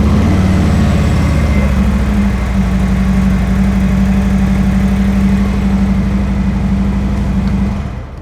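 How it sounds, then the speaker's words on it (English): A 2023 Harley-Davidson Road Glide with a stock 107 engine and stock exhaust runs steadily and loudly nearby, its deep, lumpy idle thrumming with slight rises in revs throughout, then cutting off at the end. "on this stock motorcycle, we have a 107 with the stock exhaust from Harley-Davidson"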